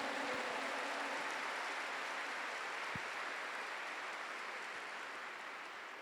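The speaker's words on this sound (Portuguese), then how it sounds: "Aplauda mais com fé." A church congregation applauds during a Catholic service, a steady, distant wash of clapping filling the whole stretch at low level with no speech over it.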